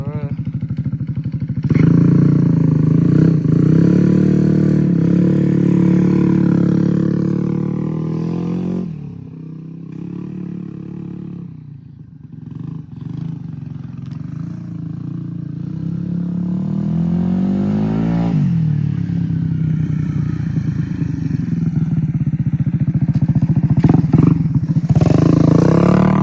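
A swapped-in racing engine runs loud and close at a steady idle, dipping in the middle before the revs climb again, with a rough, throaty drone throughout.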